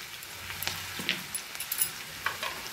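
Paneer and capsicum fry in a pan, a soft steady sizzle punctuated by faint clicks and scrapes of stirring.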